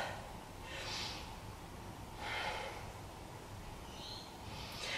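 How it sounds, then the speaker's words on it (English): Three slow, deep breaths from a yoga practitioner in a beginner neck and shoulder session, each a soft, airy exhale rising and fading at even intervals, close and quiet with no talking. "Take 3 breaths."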